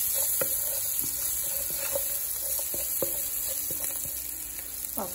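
Onions fry in hot oil in a home kitchen pan, giving a steady bright sizzle with scattered soft clicks and taps of a stirring utensil, with no one speaking.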